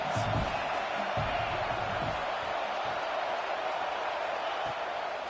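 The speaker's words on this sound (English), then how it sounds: "Big third down as the crowd gets behind this defense" A stadium crowd roars in a college football video game, a broad, steady wall of cheering for the defense on a big third down.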